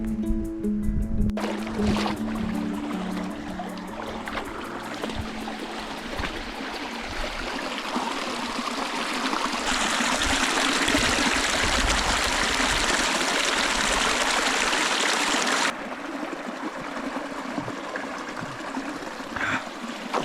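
Cold water rushing steadily from a mountain stream on a New Zealand alpine hiking route, a close, loud, continuous broadband flow with shifting intensity, briefly fuller in the middle stretch and with no talking.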